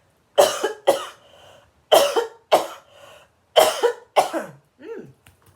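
Six sharp coughs in three pairs from dust in the throat, close and loud, with short pauses between each pair and a faint throaty sound at the end.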